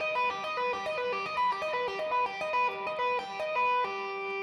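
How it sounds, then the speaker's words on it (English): An augmented triad is tapped on guitar as a fast, even run of bright notes repeating in a cycling pattern, processed with effects and ending on a sustained low note. "So a augmented triad is major third,"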